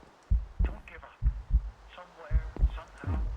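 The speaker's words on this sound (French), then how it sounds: "il y a des bruits de battement de cœur et tout, c'est très flippant" Heartbeat sounds in a video game, low thumping beats in irregular pairs over a dim hum, with a voice speaking intermittently alongside.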